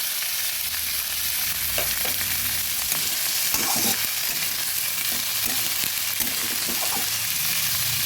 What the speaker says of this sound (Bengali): ভালোভাবে নেড়ে মিশিয়ে দিচ্ছি আর একটু ঢেকে দেবো